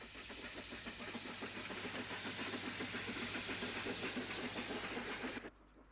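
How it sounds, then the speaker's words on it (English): An LMS 8F steam locomotive hauls a light train near Bristol, giving a steady, fairly close rush of steam hiss with rapid rhythmic chuffing that cuts off abruptly near the end. "An 8F with a very small payload."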